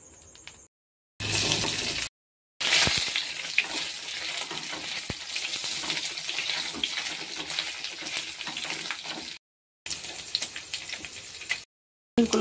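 Ingredients fry in white oil for a vegetarian malai paneer, a loud steady close sizzle with stirring, broken by a few brief silent gaps.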